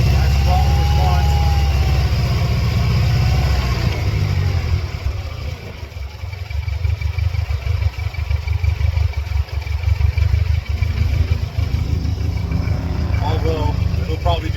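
A Mercedes-Benz car engine runs just after starting, with the mass airflow sensor and idle air control plugged back in. A loud low idle gives way to a rougher, rising throttle rumble, heard nearby.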